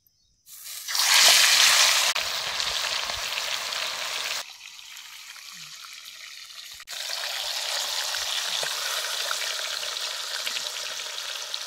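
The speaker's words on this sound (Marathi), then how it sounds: "कोंबडी अशी कढईत उभी आडवी करूनच चांगली भाजून घ्यायची." A whole chicken drops into hot ghee and oil in a kadai at a riverside field, starting with a loud eruption of sizzling that eases into a steady, close frying hiss that dips and then returns stronger.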